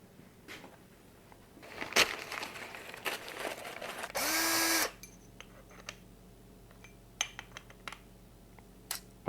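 A short, loud burst of drilling into a motorcycle handlebar end lasts under a second, followed by scattered tool clicks and handling noises in a quiet garage.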